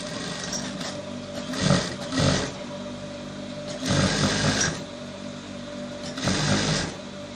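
A sewing machine stitches a sleeve seam on a senator top in a steady mechanical whir, with several louder surges as the stitching speeds up, close by and alone.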